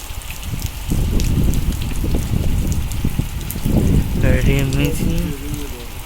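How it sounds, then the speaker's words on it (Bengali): Rain falling steadily during a wet-day outing, a constant wash of patter and hiss with some wind buffeting, while people talk over it throughout. "এইদিকে এখনও বৃষ্টি পড়ছে"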